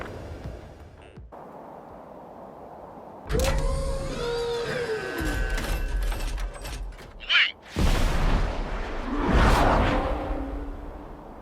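UAV drones launch in the video game Ace Combat 7. A quiet hum gives way to a rising mechanical whine and whirr, then a sharp whoosh and a louder rushing roar as they speed away.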